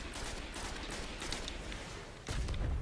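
Continuous rapid gunfire in the video game Destiny as the lights are shot during a strike, a dense close barrage that turns into a heavier, booming burst near the end.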